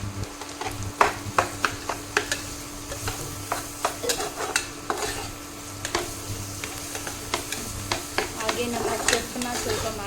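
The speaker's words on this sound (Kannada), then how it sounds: "ಶುಂಠಿ ಬೆಳ್ಳುಳ್ಳಿ ಪೇಸ್ಟನ್ನು ಹಾಕ್ಕೊತಾ ಇದ್ದೀವಿ" Onions frying with ginger garlic paste in a pan, a steady sizzle broken by frequent sharp clicks of a spoon stirring and scraping, close and fairly quiet.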